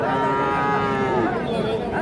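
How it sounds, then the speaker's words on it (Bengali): A Friesian bull calf at a cattle market lets out a long, loud, drawn-out moo, close by, over a background murmur of crowd chatter. "এই দেখছি আমরা এখানে একটা সুন্দর সাইজের ফ্রিজিয়ান জাতের সার বাছুর"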